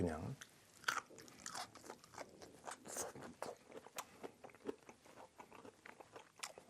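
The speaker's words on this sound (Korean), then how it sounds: "이렇게 초고추장에 살짝 찍어서 그냥 한번 먹어보겠습니다" Fatsia shoots dipped in chogochujang are bitten and chewed up close, with quiet crunchy, moist chewing in an uneven rhythm at low level and some voice in the background.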